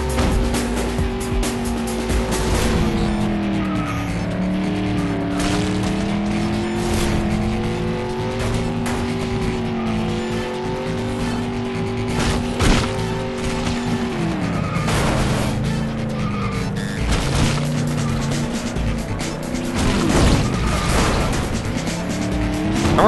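Loud, continuous driving sound from the video game Clutch: a car engine holds and swings in pitch, broken by tire squeals, skids and sharp impact bangs.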